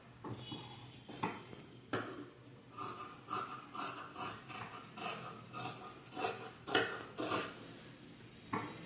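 Scissors snip through blouse fabric in a regular series of short rasping cuts, close up and fairly quiet, with no voices.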